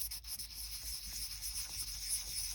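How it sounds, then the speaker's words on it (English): Hand sanding with fine 320 grit paper on the body of a 1969 Dodge Coronet Super Bee, a faint, continuous hissing scrape with a gentle back-and-forth rhythm. "And this is, of course, using my fine or 320 grit sanding."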